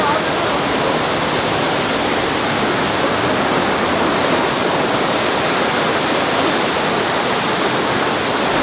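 Loud, steady roar of Mantoha Waterfall in Pakistan pouring into a river, a dense continuous rush of water close by with no pauses.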